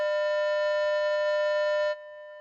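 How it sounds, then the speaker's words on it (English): Two matched electronic tone sources set to 200 Hz play together as one steady, pure, buzzing tone, heard alone for about two seconds before cutting off abruptly. "this tone is two sources at 200 hertz"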